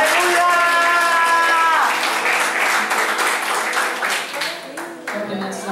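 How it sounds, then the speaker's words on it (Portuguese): A church congregation breaks into loud, lively applause during a Portuguese-language service, the clapping dense and continuous while a voice speaks over it and fades toward the end. "Vamos receber as servas de Deus com palmas bem alegres para Jesus"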